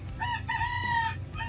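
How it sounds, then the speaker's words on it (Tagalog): A rooster crows once in the Philippines, a drawn-out harmonic call heard at moderate distance over low background noise. "Ayun, manok."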